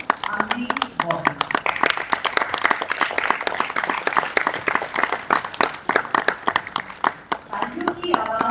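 Scattered audience applause from a small crowd at a stage show, sparse individual claps blending with voices in the room, moderately loud and uneven throughout.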